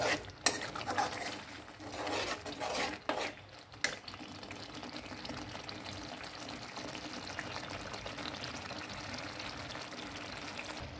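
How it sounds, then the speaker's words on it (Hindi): Boiled potato pieces are stirred into spicy curry gravy in a pan, with a burst of utensil scrapes and clinks near the start, then a quieter, steady cooking murmur. Nobody speaks. "तो ग्रेवी में मिक्स कर लूँगी इसको इस तरह से।"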